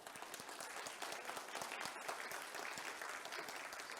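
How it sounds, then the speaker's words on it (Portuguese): Audience applause at a seminar panel on the Novo Rio Pinheiros project: a quiet, distant but steady rattle of many hands clapping for a speaker, with no talk over it. "Júnior, vice-presidente da ABS São Paulo, a quem eu peço uma salva de palmas"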